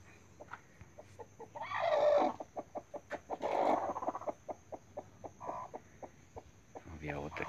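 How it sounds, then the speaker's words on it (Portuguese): Two hens brooding together in one nest give low, steady clucks in an even rhythm, close by, with a few louder, longer murmurs rising over the pulse and a steady faint whine in the background. "duas galinhas chocando um ninho só"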